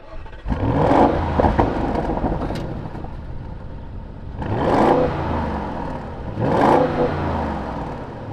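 A 2025 Audi SQ7 facelift SUV engine running, a deep steady rumble close by that swells in three distinct rev-like surges over a constant low drone.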